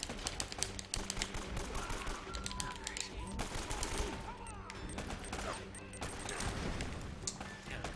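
Rapid bursts of AK rifle fire rattle through a firefight in Uncharted: Drake's Fortune, loud and sustained, with dense crackling shots and impacts layered over game noise and no clear talking.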